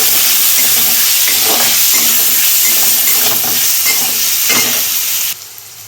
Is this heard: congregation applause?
no